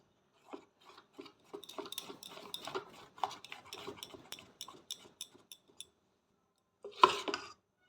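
Spoon clinking and scraping in a bowl while milk is stirred little by little into thick patishapta batter, quick light taps in a steady run, close and fairly soft, then a pause and one louder clatter.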